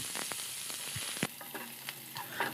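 Cumin seeds and three dry red chillies frying in hot oil, a steady sizzle with a few soft stirring knocks and scrapes.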